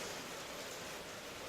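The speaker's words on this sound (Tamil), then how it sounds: "இந்த நாளில் போய் மழை பெய்யுது" Summer rain falling in a hill area, a faint, even hiss of steady downpour with no distinct drops or voices.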